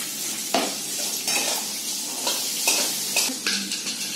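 A spiced mixture is stirred in a hot pan, a steady sizzle punctuated every second or so by scraping, clattering spoon strokes against the metal, close and clear.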